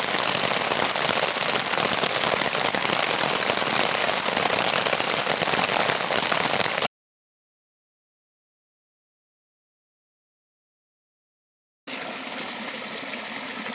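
Steady heavy rain patters on a campsite in a dense, continuous hiss, cutting out to silence for a few seconds before resuming.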